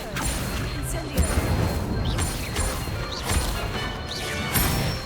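Incendio fire spells cast in Hogwarts Legacy give a string of sharp whooshing, crackling bursts about a second apart, with impact crashes over background game sounds and effects.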